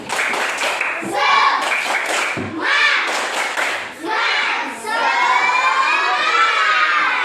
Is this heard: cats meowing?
no